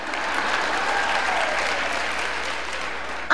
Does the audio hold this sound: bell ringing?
no